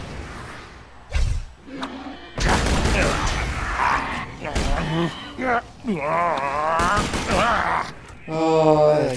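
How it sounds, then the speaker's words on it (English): Sniper rifle gunfire in Borderlands 2, sharp loud cracks and thuds breaking through busy game sound effects and music, with a voice reacting between the shots. "Oh, I like the sniper rifle."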